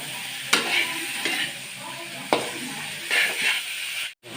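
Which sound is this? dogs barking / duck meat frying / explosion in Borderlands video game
duck meat frying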